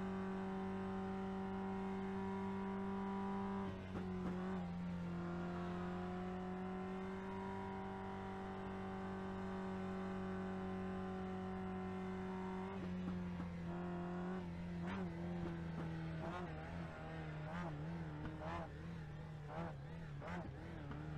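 Mazda MX-5 race cars in an iRacing sim race at Oran Park drone steadily, a sustained engine note that dips and climbs with gear changes and revs, a pack of cars heard from close behind the wheel.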